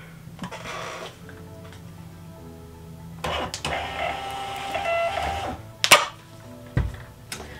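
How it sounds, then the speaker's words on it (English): A Rollo label printer feeding out a shipping label, with a low mechanical whir and a few sharp clicks and clunks as the paper advances, close up with no talk. "here is my little Rollo printer"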